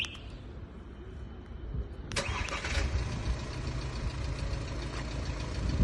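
A 2013 Volkswagen Amarok engine, remote-started, cranks and catches, then settles into a steady idle, heard from a short distance with no one speaking.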